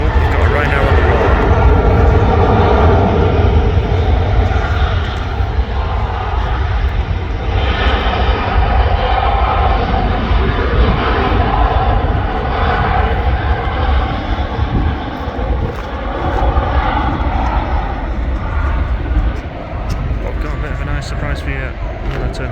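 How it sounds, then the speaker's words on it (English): A Ryanair airliner takes off at Manchester Airport. Its jet engines give a loud, steady, broadband roar that holds for the whole stretch, with no talk over it. "Oh, we've got a Ryanair on the roll."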